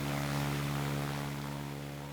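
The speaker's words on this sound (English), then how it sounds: "the planes were very loud and I got distracted" Propeller planes drone loudly and steadily overhead in the base-building game Ground of Aces, a continuous engine hum with no talk.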